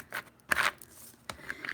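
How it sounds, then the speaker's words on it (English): Quick snips and crisp crunching bursts come from cutting a vinyl decal, close and faint, spaced irregularly with a few short rustles in between. "And I cut my decal"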